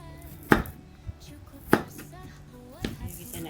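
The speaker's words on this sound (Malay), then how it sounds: "Kita nak hiris pula bawang putih ya, seulas saja ya." Three sharp knife chops on a cutting board as a single garlic clove is sliced, evenly spaced and close, with a faint voice murmuring in the background.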